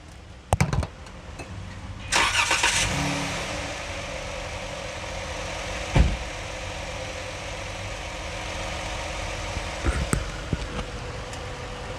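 A car engine idles at a steady, even hum during VVT cam phaser repair work, with a few sharp knocks and clunks over it, including a louder thump midway, and no speech.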